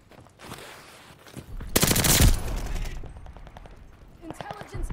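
Heavy automatic gunfire bursts in Call of Duty: Vanguard, a dense, loud volley peaking mid-clip amid quieter scattered shots and game effects, with a brief voice in the mix.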